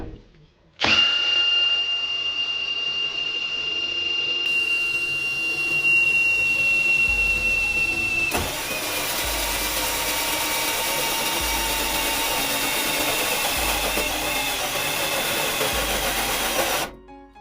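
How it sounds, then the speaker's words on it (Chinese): SATA cordless lithium drill running in low gear while drilling holes, a steady loud motor whine with a pitch drop midway and rhythmic load pulses, no talk over it. "我们再把它搬到慢档，我们测试一下它的打孔效果。"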